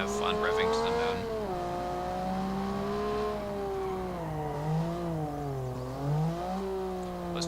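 A car engine in the BeamNG.drive driving game revs steadily, its pitch rising and dipping in repeated surges over several seconds, loud and close, with no talk over it.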